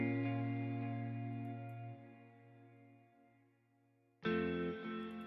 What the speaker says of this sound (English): adding some delay and some chorus and space with the reverb and some auto panning so we feel it shifting from left to right